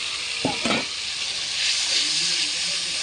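Water splashes into frying masala in a pan, setting off a steady hiss of sizzling and steam with a few scraping stirs early on; close and fairly loud, with no talking.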